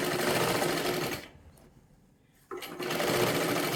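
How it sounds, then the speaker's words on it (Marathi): A sewing machine runs close and loud while double stitching a blouse sleeve, whirring steadily, pausing briefly in the middle, then restarting with a short clunk and continuing at full speed. "डबल शिलाई मारून घ्या."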